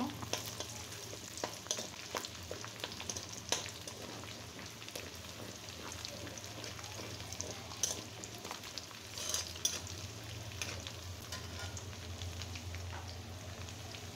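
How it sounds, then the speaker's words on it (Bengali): Sliced onions frying in hot oil toward golden brown, a steady close sizzle with occasional stirring scrapes and light crackles, no talking. "আমি খুব সুন্দর করে পেঁয়াজটা ভেজে নেব, ব্রাউন কালার করে, গোল্ডেন ব্রাউন করে"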